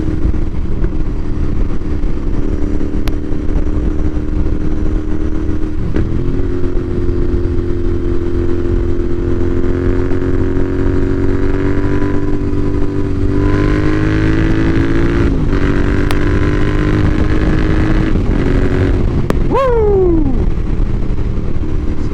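Royal Enfield Interceptor 650 motorcycle fitted with new exhaust pipes on a country road, a loud steady twin-cylinder drone held close for a long stretch, with gear changes and a final sharp rev swell.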